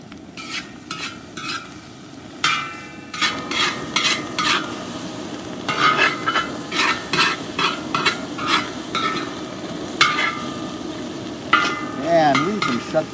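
Fried rice being stir-fried in a cowboy wok: a steady sizzle under repeated scraping and clanking strokes of the utensil against the metal, close and fairly loud, with no talking.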